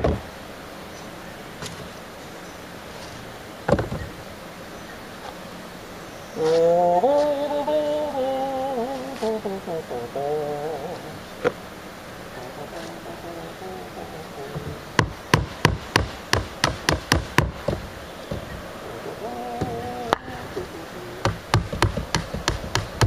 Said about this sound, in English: we gotta get these nails out.